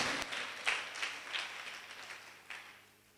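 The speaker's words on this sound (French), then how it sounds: "Applaudissez pour les garçons." Children and onlookers clap for the boys at a French spelling and elocution contest between two classes, a short burst of scattered applause that swells, then thins and fades, heard from a moderate distance.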